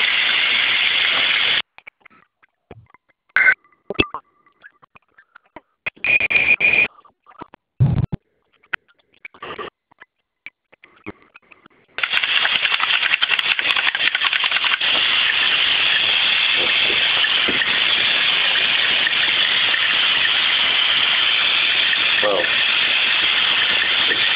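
A tattoo ink bottle rinsed under running water from a tap, with a steady loud gush that cuts in and out in bursts before flowing continuously at close range.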